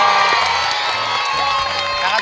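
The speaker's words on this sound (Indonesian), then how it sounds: "kasih tepuk tangannya untuk Kakak Tony Chu." Audience cheering and applauding at a children's quiz show, a dense, continuous wash of crowd noise with children shouting and whoops, loud and sustained throughout.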